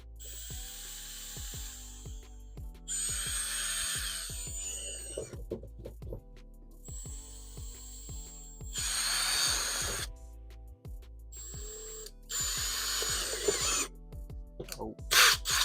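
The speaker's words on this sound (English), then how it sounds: "So now we're drilling the holes that we marked to mount our tank." Repeated bursts of high-pitched drilling into a Hyundai car body to mount a tank, each lasting a couple of seconds, separated by quieter pauses with clicks and handling noise.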